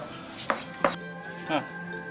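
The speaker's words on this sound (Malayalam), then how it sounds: "വെളുത്തുള്ളി ഇനിയിപ്പോ തൊണ്ടൊന്നും കളയില്ല അരിഞ്ഞെടുക്കും" Garlic cloves, skins left on, chopped with a knife on a board in a toddy shop kitchen preparing pearl spot fish: three distinct close chopping thuds spaced about half a second apart, with no talk.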